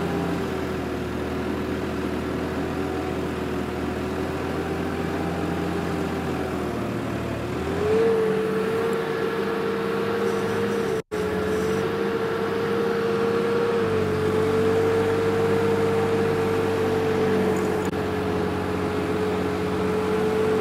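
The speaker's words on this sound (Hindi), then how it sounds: "काफ़ी सालों बाद आज अच्छा लग रहा है ट्रैक्टर को चलाते हुए।" A tractor engine drones steadily while it is driven on a farm, its pitch shifting as it pulls along, loud and close with no talk.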